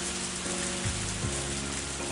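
Rain falling outdoors: a steady, dense hiss of drops fills the whole moment without pause, with soft tonal music running underneath.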